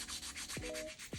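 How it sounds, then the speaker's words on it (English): Rapid rhythmic scratching strokes of light sandpaper rub back and forth, sanding gold paint off a cosplay prop, close up, each pass a brief raspy swish. "Now I take a light sandpaper to get rid of the golden paint"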